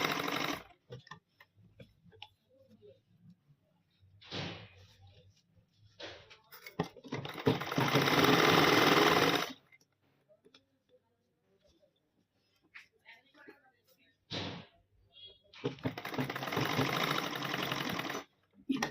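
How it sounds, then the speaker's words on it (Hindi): Sewing machine stitching a side pocket onto trousers, running in short bursts of rapid, close mechanical ticking separated by pauses, with someone talking between runs. "अब इस पर हम सिलाई लगा देते हैं यहाँ पर इस तरह से"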